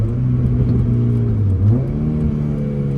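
A Honda Accord Euro engine revs hard toward VTEC, a loud, steady close-up drone that climbs in pitch, dips briefly and then rises again, with no voices.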